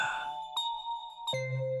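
A telephone rings at night on an internal line for room 313, giving a clear electronic ringtone of three distinct tonal chimes, each sharp at the start and then ringing out, in a quiet setting with no voices.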